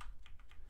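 Keys clack on a Razer 2014 BlackWidow Ultimate Stealth keyboard, a few quick muted strokes in an even rhythm, close and fairly quiet, with no voices.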